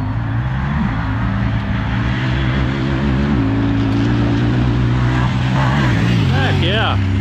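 A Honda Talon 1000R chases a Kawasaki KRX1000 side-by-side around a muddy short course, their engines roaring loudly and continuously with rising and falling revs as they race past.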